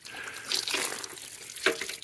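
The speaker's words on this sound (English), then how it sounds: "So what I'm going to do is just unplug it and see if we can get some water flowing through." Water runs through a pressure washer hose and pump after priming, a soft, moderately faint splashing and gurgling flow with a couple of brief louder spurts, no talking.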